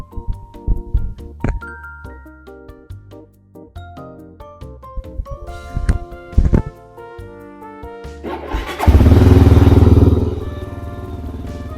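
Bright clinking and ringing tones, then a 2020 Stallion SM400 motorcycle engine starts and runs loudly for a couple of seconds before settling to a lower idle.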